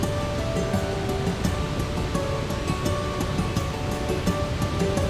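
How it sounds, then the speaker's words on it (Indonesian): Curug Sodong, a waterfall about 20 m high with heavy water flow, roars steadily and loudly without pause, a dense continuous rush filling the whole clip. "Ketinggian air terjun ini sekitar 20 meter dengan debit air yang cukup deras."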